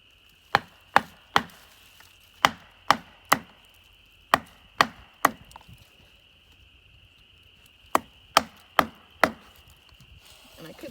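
A row of crisp, hard strikes scoring poplar bark on a standing tree, in two separated groups of evenly spaced knocks. The strikes ring out close by against a faint steady background tone, with no talking.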